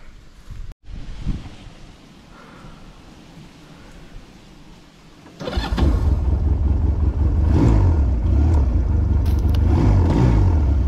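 A quad bike's engine catches after a quiet stretch and then runs loud and steady, with a couple of revving surges near the end, heard outdoors with no talking.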